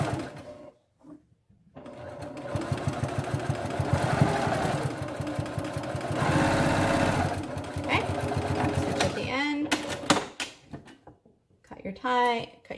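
A sewing machine stitches the straight edge of a reversible pirate face mask, its needle chattering in a fast rapid run for several seconds before stopping, followed by handling clicks and brief talk nearby.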